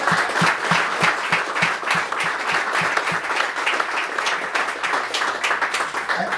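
A round of applause from an audience gathered to honor Cynthia and her donors, with lively clapping and some distinct nearby hand claps standing out in a dense, fairly loud wash.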